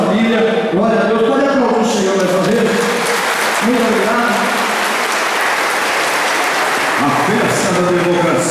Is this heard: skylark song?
no